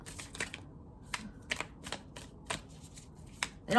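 Thick tarot cards being shuffled by hand, a run of crisp, close riffling flicks and taps in uneven bursts.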